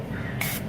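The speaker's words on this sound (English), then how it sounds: "I'm gonna take a little spray here" Two short hissing bursts from a can of canola oil cooking spray, close by, over a faint low background hum.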